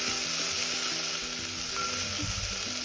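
Spices and coriander fry in a pan for Kathiawadi muthiya dhokla, a loud, even sizzle close by with light stirring scrapes toward the end, no talking.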